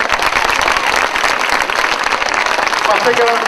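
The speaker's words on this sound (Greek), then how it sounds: "ένα δυνατό χειροκρότημα για όλους" Loud, dense clapping from a crowd at a school theatre performance of Aristophanes' Plutus keeps going steadily, with a voice audible through the applause near the end.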